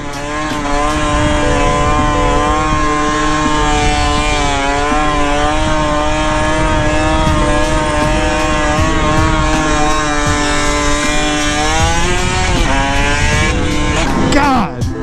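Motorcycle engine revving hard while lane splitting and running red lights through traffic, loud and close, with a continuous whine that shifts in pitch and surges near the end.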